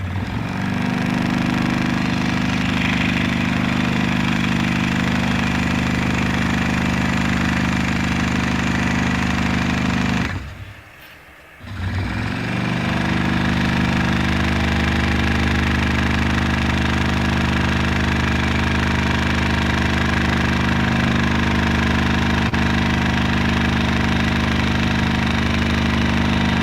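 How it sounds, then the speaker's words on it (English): Two scroll saws run at the same time, cutting wooden name plates. They make a loud, steady mechanical drone with a buzzing rattle that barely changes, apart from a brief dip near the middle, with no talking. "it's funny listening to two scroll saws cutting at the same time"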